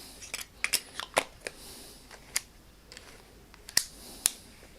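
Small clicks, snaps and rattles as the back is fitted onto a Contaflex Super B film camera with a leaf shutter, close and fairly quiet, irregularly spaced with no talk.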